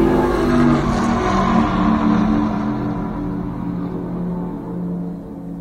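A NASCAR race car on a track, its engine a steady loud roar that holds near and then eases slightly, with no voices over it.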